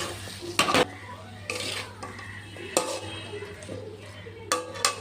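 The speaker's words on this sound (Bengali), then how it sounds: "এবারে ভালো করে মিক্সড করে নেব।" A pan of Malabar spinach stalks, potato and salt is stirred for a spinach and pumpkin chorchori, with several loud utensil scrapes and clinks against the pan over a low background sizzle.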